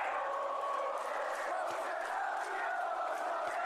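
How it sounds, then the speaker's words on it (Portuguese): A football crowd chants inside the Maracanã stadium during a Flamengo Copa Libertadores round-of-16 match, a dense, continuous roar of massed voices that stays steady and fairly distant throughout. "Vamos lá, a torcida canta."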